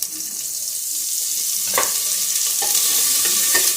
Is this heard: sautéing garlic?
yes